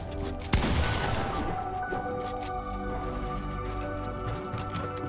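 Gunfire in Fortnite: one sharp, loud shot near the start, followed by a busy game-sound bed with softer in-game effects and faint tones.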